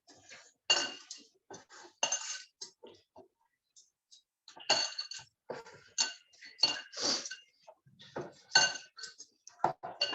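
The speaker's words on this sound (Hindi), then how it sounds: "मिक्स कर देते हैं।" Spoon clinking and scraping in a dish while mixing ingredients with rock salt for a fasting-day snack, intermittent close clatters separated by pauses.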